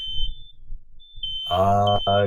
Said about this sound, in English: Someone set off a fire alarm.